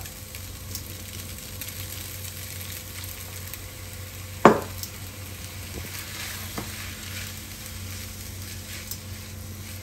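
Soy sauce hitting a hot pan in a home kitchen, a steady frying sizzle with one sharp clatter midway and a few lighter utensil taps.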